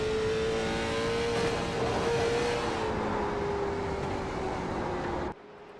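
Late model stock cars race at Myrtle Beach, a loud continuous engine roar with a sustained rising and falling drone as the cars run close by, cutting off abruptly near the end.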